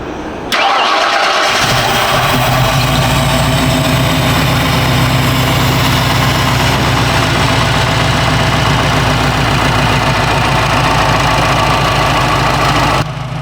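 A Ford Bronco engine fitted with Holley Sniper EFI cranks briefly, catches and roars to life, then settles into a loud, steady idle that runs on without a break.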